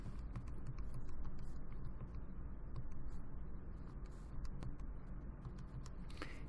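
Graphing calculator keys pressed to enter a new function, a quick patter of small plastic key clicks up close over a steady low background hum.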